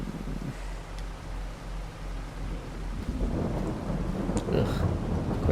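Rain pours steadily in a farming video game, with a deep low thunder rumble that swells and grows louder toward the end.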